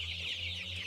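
Chickens cluck softly and continuously up close while eating, a short burst of low, busy barnyard murmuring.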